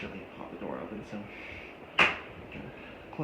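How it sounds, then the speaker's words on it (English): A door pops shut with one sharp close around the middle, in a room where a 52-inch Concord ceiling fan is being worked on, with talk before it and a faint hum throughout. "close the door"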